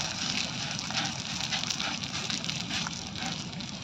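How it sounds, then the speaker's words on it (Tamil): Gathered firewood burns in a home cooking stove, a continuous close roar with faint scattered crackles, steady and moderately loud without speech. "வந்து விறகு பொறுக்கிட்டு வந்ததை இப்படி அடுப்புக்கு பற்ற வச்சுக்குவோம்"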